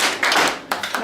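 A classroom group claps for a student during a chemistry titration practical, a short, loud, dense burst of hand claps up close.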